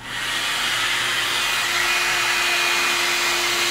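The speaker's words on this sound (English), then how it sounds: "taking the blower." A hair dryer runs steadily at close range while curly hair is being straightened, a loud, continuous whooshing blow with a faint whine that starts at once and holds without a break.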